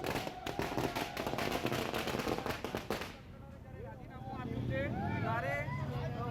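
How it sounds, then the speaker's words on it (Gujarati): Rapid, loud crackling bursts of firecrackers set off in celebration outside a university head office for about three seconds, then the popping stops and voices and other sounds take over. "યુનિવર્સિટીની હેડ ઓફિસ ખાતે ફટાકડા ફોડીની ઉજવણી કરી હતી"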